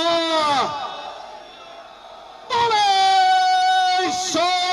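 A crowd of party workers shouts a Sikh slogan in unison at a political gathering, loud, sustained chanted calls in two bursts separated by a quieter lull.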